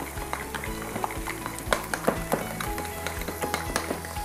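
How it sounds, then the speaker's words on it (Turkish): A çoban kavurma mixture with tahini is stirred in a sizzling pan: continuous frying crackle under repeated scraping and clinking strokes of a utensil against the pan, close and steady, with no talking. "Güzelce karıştırmaya devam ediyoruz"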